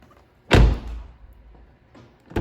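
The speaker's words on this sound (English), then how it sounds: "We're going to shut the door" A BMW F10 535i car door shuts with a solid thud, followed by a softer rustle and another muffled knock at the very end.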